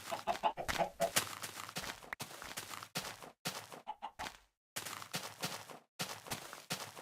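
Chickens clucking in the video game Minecraft, a string of short, close, fairly quiet clucks and squawks in uneven bursts with brief pauses and no talking.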